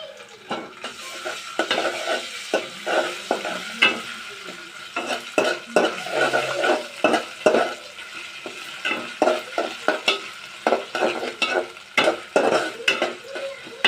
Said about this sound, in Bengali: আদা রসুন বাটা দিয়ে দিব